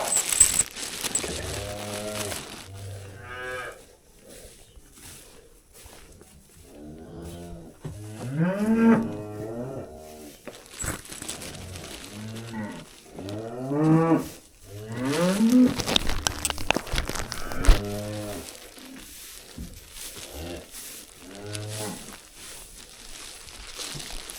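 A cow in labour during calving moos again and again, with long, loud, throaty bellows separated by short pauses and a few soft rustles in between.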